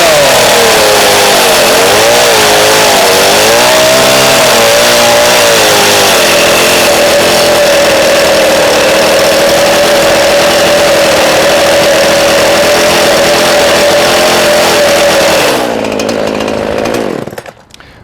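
A gas chainsaw, already warmed up, roars loud and close at high revs as it cuts, holding a steady howl before the engine suddenly drops off at the end.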